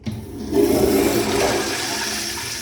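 A toilet in a World Market men's restroom flushes loudly and close by, a sudden gush of water followed by steady rushing and swirling that carries on throughout.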